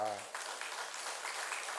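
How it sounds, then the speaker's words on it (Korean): A church congregation applauds faintly from a distance, a soft, even patter of clapping that follows a moment of voice at the start. "박수 한번 쳐드려야 돼요."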